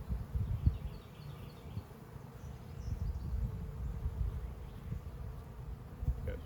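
Honeybees buzz steadily around an open hive during an early May inspection, a dense, continuous low drone close by that swells slightly midway, with no talk over it.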